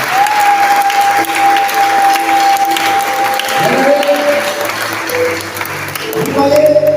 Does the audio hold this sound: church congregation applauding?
yes